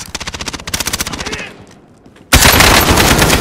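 Rapid automatic gunfire in Call of Duty: Modern Warfare, two loud rattling bursts, a brief lull, then a sustained dense volley of shots close by.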